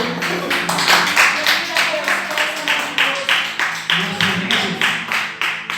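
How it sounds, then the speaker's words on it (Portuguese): A church congregation claps in a steady, even rhythm, loud and close, with roughly two claps per second over a dense crowd wash and talk faintly underneath. "Pode sentar aplaudindo ao nome do Senhor."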